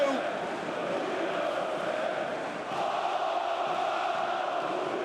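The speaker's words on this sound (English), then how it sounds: "he sends the crowd into raptures here in the Aleksandar Nikolić Hall" Basketball fans in the Aleksandar Nikolić Hall cheer during a Crvena Zvezda versus Fenerbahce EuroLeague game, a steady, distant-sounding crowd roar that barely dips. A commentator's voice seems to run beneath it.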